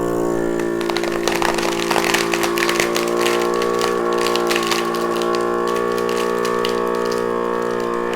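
A vacuum sealer's motor with a big fan and large pistons gives a steady, loud whir with a strong low hum and harmonic drone, running continuously with some rattly texture on top.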